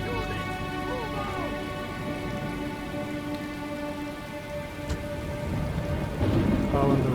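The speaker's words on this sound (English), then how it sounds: "Oh, and the rain. Look at this battlefield." Steady rain pours across a battlefield in the Rome Total War video game, a dense close hiss with scattered impacts and a low rumble, swelling louder near the end.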